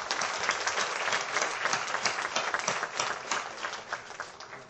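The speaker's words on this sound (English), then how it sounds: "please give a big round of applause" Steady applause from a large audience at an education forum launch, dense clapping that holds at an even level throughout without anyone speaking.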